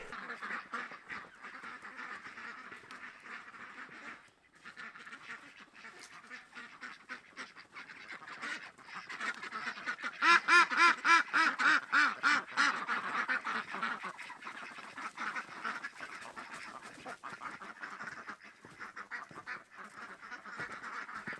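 Farm ducks in a barnyard quack and honk continuously, with a louder rhythmic burst of rapid calls midway through a steady flock chatter.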